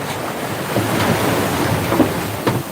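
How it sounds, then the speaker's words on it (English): Ocean waves on the Banda Sea wash steadily under a constant rush of wind, heard from a sailboat, a broad continuous roar with a few slightly brighter surges. "Listen to the water and the wind."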